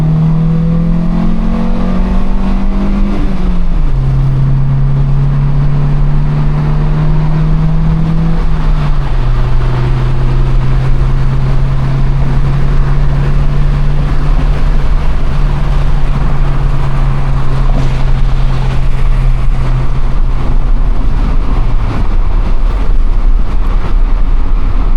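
Loud, steady engine drone from a manual car on the road, with a strong low hum that shifts pitch as gears change and continues at cruising speed, no talking over it.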